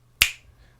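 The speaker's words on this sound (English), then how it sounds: "I double the snap to another" A single crisp finger-snap sample from an R&B hip hop beat, heard as one sharp, bright click with a short decaying tail, isolated and close.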